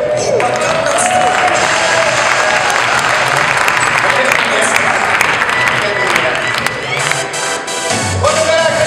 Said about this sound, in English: Clap again for your host